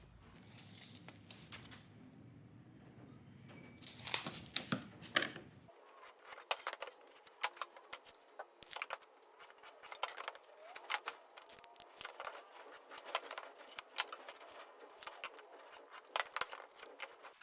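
Drywall being cut into stiles for wainscoting, with scattered faint scraping, snapping and handling noises over a low background hum that stops partway through.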